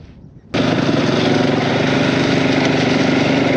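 A KTM dirt bike engine fires up abruptly after a brief quiet moment, then holds a loud, steady, buzzing run close by with no break.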